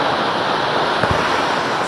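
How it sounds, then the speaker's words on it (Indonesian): Heavy microburst downpour over Bekasi pouring down like a waterfall: a steady, dense roar of falling water mixed with wind rush, continuous and loud throughout with no talk. "Tumpahan air dengan volume tinggi terjadi saat hujan deras mengguyur Bekasi."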